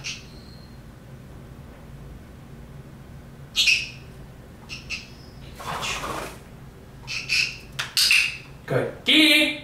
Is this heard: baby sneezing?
no